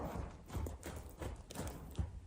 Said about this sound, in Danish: Så løfter jeg min hånd lidt og siger trav, jog.